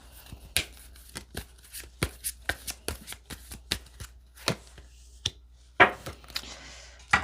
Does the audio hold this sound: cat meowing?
no